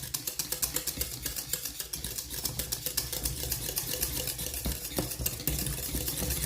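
Pastry cream whisked vigorously in a bowl, a fast, regular rhythm of close scraping strokes that continues steadily without voices.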